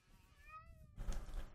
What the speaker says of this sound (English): Is that a big cat? Oh, we have a big cat.